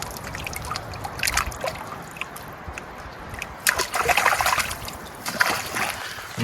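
Creek water trickles and splashes nearby, a steady burbling flow with occasional brighter spatters.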